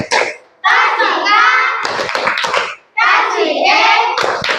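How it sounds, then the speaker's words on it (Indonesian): Children in a classroom clap their hands in the rhythmic 'tepuk oke' pattern, loud and close, with their voices chanting along over the claps. "Tepuk tangan dulu untuk temannya."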